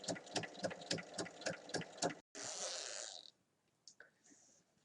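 A sewing machine topstitches a bag lining in a rapid, even run of close mechanical stitching thumps, followed by a short whirring burst and then near silence with faint clicks.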